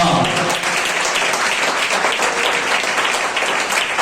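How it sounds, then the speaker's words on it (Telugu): A church congregation at a Sunday worship service claps hard and steadily, a dense, loud wash of applause filling the room without a break. "కొట్టు చప్పట్లు గట్టిగా."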